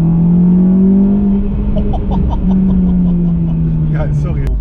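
An Opel Astra GTC 230 PS engine revs with a steady low drone that rises and falls, loud and close, with people talking over it.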